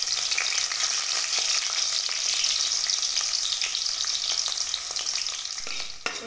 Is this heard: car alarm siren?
no